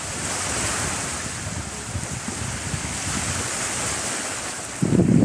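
Sea waves wash continuously at the seaside while strong wind buffets the microphone, a steady loud roar with a heavier gust rumbling near the end.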